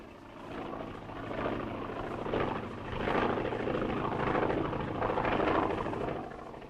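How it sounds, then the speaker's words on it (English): A propeller plane's engine drones steadily as it comes in to land near a desert cafe in a 1937 crime drama, the hum swelling and fading in broad waves throughout, loud and continuous with no talk over it. "That must be the plane."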